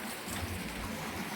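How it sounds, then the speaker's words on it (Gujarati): Heavy village rain falls in a steady, broadband wash during a windstorm, constant and fairly close, with no voices over it. "અમારા ગામમાં ફૂલ વરસાદ શરૂ થઈ ગયો છે"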